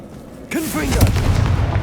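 A Confringo blasting spell cast in the game Hogwarts Legacy bursts out suddenly, then rolls into a sustained low rumbling roar. A brief voiced shout is mixed in around the blast.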